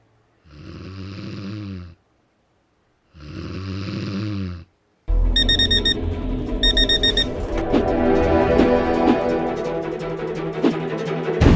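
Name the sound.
alarm clock ringing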